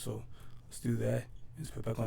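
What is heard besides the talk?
No everyday noise stands out behind the speech.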